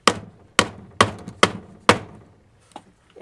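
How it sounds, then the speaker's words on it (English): Hammer tapping parts of a homemade bee vacuum back together, five sharp close knocks at a steady half-second rhythm, followed by a couple of fainter light taps. "I'm just going to tap this back together with a hammer."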